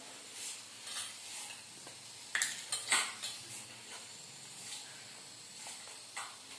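A spoon stirring bitter gourd pickle in a pan on a gas stove, producing soft scraping and light clinks with a faint sizzle, fairly quiet throughout with a few sharper knocks near the middle.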